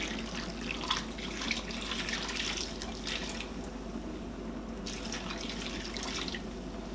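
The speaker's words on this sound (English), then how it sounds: "I'm going to add warm water in this spinach." Warm water pours steadily onto spinach in a bowl, a continuous splashing stream with no voices.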